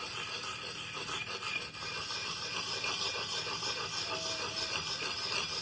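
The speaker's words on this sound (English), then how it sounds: "So what I'll do again is use that sharpening stone in circular motions." Sharpening stone rubbed in circles on a lopper blade, producing a close, continuous gritty rasping with rhythmic scraping strokes and no talk.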